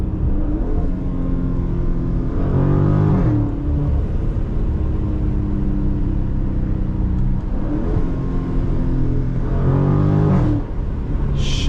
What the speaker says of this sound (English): Downshift, full throttle, boom, bro.